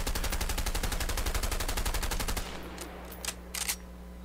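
Rapid automatic gunfire in the video game A Way Out rattles in a dense, steady burst for about two seconds, then stops, followed by a few faint scattered knocks.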